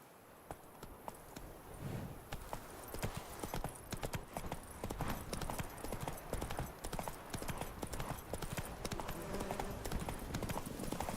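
Roach, Geralt's horse in The Witcher 3, gallops with rapid, steady clip-clop hoofbeats that build and run on continuously, close up and without talk.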